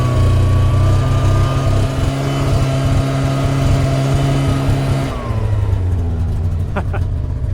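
A utility snowmobile engine runs loud and steady in deep snow, its pitch dipping as the machine drives over a buried tree, with a voice speaking briefly over the constant drone.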